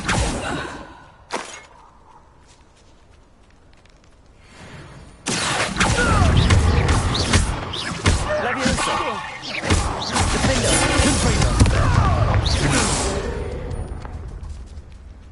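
Confringo spell blasts in a Harry Potter video game: a sharp early impact, then a long stretch of loud, dense blasts, crackles and whooshes under a voice calling out spells.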